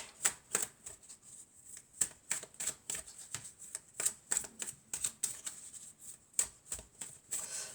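Oracle cards from the La Triade deck are shuffled by hand in quick, irregular bursts of crisp riffling and slapping, close and fairly loud with no one speaking.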